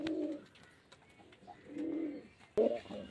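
A steel-coloured male pigeon, kept for flying, coos in three rounded, throaty bursts, close and fairly loud, with brief quiet gaps between calls and no talking.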